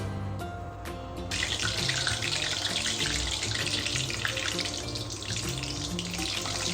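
Bread, egg and chicken patties frying in hot oil give a steady, dense sizzle that starts after a brief quieter moment and carries on evenly, close and fairly loud, with no talking.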